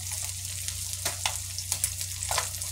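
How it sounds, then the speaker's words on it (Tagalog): Galunggong, round scad fish, sizzles and crackles steadily in a frying pan, with sharper spitting pops every so often, heard close by and with no talking. "Ayan po yung ating pinipritong galunggong."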